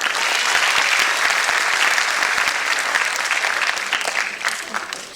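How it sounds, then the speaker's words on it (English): Steady applause from a school annual day audience, loud and sustained, tapering slightly toward the end. "Everyone, please give a huge round of applause."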